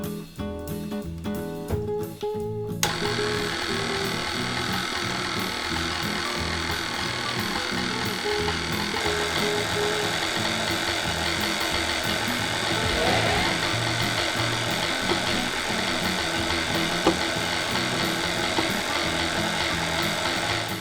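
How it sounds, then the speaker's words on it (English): Ice cream machine churning a peach yuzu ice cream base, giving a steady, loud motorized whir that runs without a break after a few seconds of choppier mechanical rattling at the start. "I'm going to pour our ice cream base into the ice cream machine and then let it stir, stir, stir."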